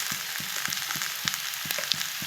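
Potatoes, green plantain and onion frying together in a pan, a steady close sizzle broken by regular soft scraping strokes as the pieces are stirred, with no voices.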